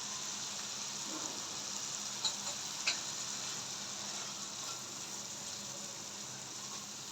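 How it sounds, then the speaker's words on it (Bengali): Spiced masala with frozen peas sizzling and frying steadily in a pan, a continuous close hiss with a couple of faint clicks, no talking. "মশলাটাও কষে যাবে এদিকে মটরশুঁটিটাও সিদ্ধ হয়ে যাবে"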